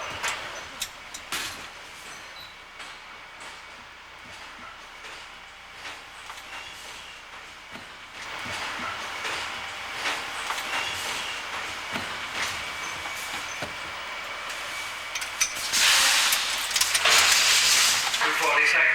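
An Uptown #1 local New York City subway train rattles along the rails with clickety-clack and a louder screeching, rushing surge near the end, while a voice speaks over it.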